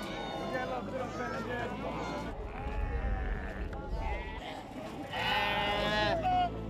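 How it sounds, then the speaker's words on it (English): Sheep and goats bleat at the Tuesday livestock market in Widou, a few wavering cries rising over a busy background of people talking and moving about. "At the market of Widou, held every Tuesday, goats, sheep and cattle are sold."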